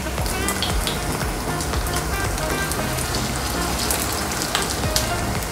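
Gram-flour coated fish for a Bengali fish fry crackles in hot oil, a dense, rain-like patter of sizzling that runs evenly and close throughout, with a faint low musical tone beneath.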